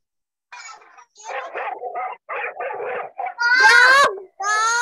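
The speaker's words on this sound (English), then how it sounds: "Dog. Dog." A dog barks several times in short bursts, close and fairly loud, followed by a voice.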